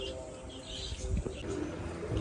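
Pigeons coo softly in a village loft, low throaty calls repeating faintly against quiet background noise.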